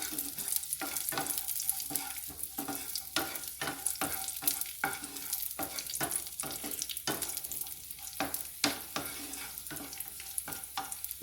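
Cloves and raisins fry in a pan for poha payasam, a continuous close sizzle broken by repeated scraping strokes of a stirring spoon, with no voices.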